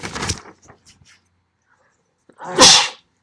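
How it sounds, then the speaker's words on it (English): One sharp, loud sneeze bursts out close by near the end, after a few moments of a person talking and then a short pause. "Ooh, sneeze."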